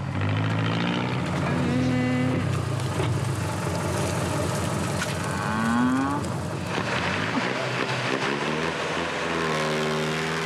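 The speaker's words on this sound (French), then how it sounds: "Sa vieille Jeep a du mal à encaisser les 90 km de piste qui mènent au village." An old Jeep labors along a rough 90 km dirt track, its engine droning loudly and continuously with rising and falling pitch as it climbs and shifts, close and rumbling throughout.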